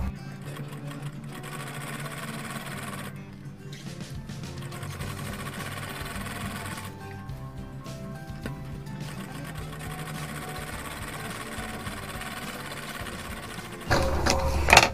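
A sewing machine stitches a belt onto a pair of ladies' pants, running in a steady mechanical whir for most of the stretch with a brief pause, then a louder, harsher burst near the end; no one speaks.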